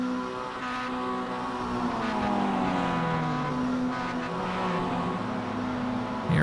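A race car's engine revs steadily and wails through a celebratory donut at Laguna Seca in the iRacing simulator, with shifting pitch sweeps over a continuous, moderately loud drone.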